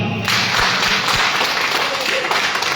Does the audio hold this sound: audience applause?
yes